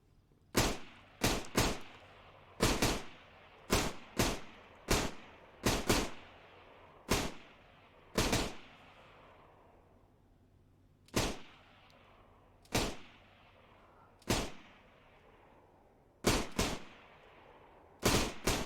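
Repeated gunshots in the video game DayZ, loud sharp cracks fired singly and in quick pairs and bursts, each trailing a short echo across a quiet background with no voices.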